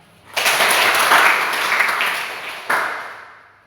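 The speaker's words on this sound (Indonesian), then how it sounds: "Tepuk tangan semuanya" A crowd breaks into applause, clapping steadily with a fresh surge partway through before fading out.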